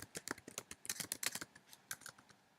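Fingers type on a computer keyboard, a quick uneven run of light plastic key clicks up close, briefly pausing before a few more taps.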